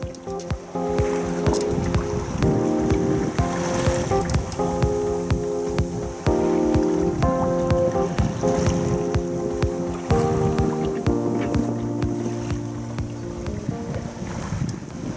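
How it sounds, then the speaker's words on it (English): Wind rushes steadily past a sailing boat running wing on wing in about 10 knots of wind on a calm sea, with creaking rigging, water sloshing against the hull and buffeting gusts across the microphone. "Now we're sailing wing on wing with only 10 knots of wind."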